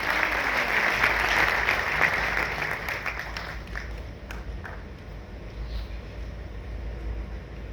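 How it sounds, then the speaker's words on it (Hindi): Sustained applause from an audience welcoming a guest at a book launch ceremony in Indore, steady dense clapping that gradually thins and softens. "जरा तालियों की गड़गड़ाहट से उनका हम स्वागत करें"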